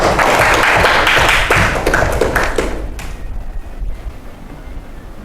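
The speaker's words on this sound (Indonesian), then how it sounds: "Oke, tepuk tangan untuk kita semuanya" A tenth-grade Islamic religious education class at a public high school bursts into dense, close applause that holds steady for about three seconds before thinning and fading out.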